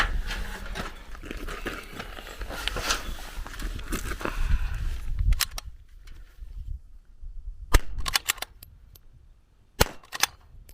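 A Zermatt Rim-X .22LR bolt-action rifle fires at a rifle match stage, a string of sharp close cracks followed by sparser, distinct shots spaced a second or more apart.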